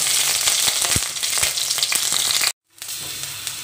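Green chillies and dried red chillies frying in oil in a kadai, a steady close sizzle with faint crackles, cut by a brief silence before the frying resumes.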